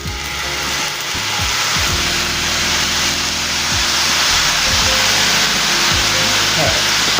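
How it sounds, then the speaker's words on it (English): Sauce is poured around the edges of a hot wok of spam fried rice and sets off a loud, steady sizzling hiss that swells slightly and keeps going, with low knocks beneath. "When you pour it around the sides of your pot, your pan, your wok, it burns just a tad bit"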